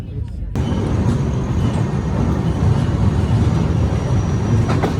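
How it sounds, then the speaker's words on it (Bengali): A passenger train pulls into Bhadrak station in Odisha, its loud, continuous rumble of wheels and carriages filling the platform after a brief quiet start, with voices in the background. "আমাদের ট্রেন 5 মিনিট দেরিতে শালিমার থেকে 290 কিলোমিটারের জার্নি কমপ্লিট করে পৌঁছে গেল ভদ্রক স্টেশনে"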